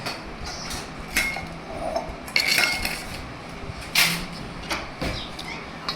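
Spoon clatters against a metal bowl while spices and batter for idli vada are mixed, a run of sharp scraping clinks and taps at uneven intervals, fairly close and moderate in loudness.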